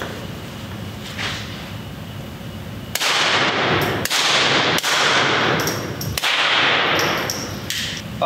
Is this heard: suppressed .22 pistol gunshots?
yes